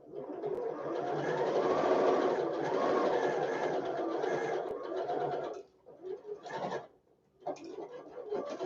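A sewing machine runs steadily for about five seconds while stitching a quarter-inch quilt seam, then stops, followed by short bursts of rustling and handling of fabric.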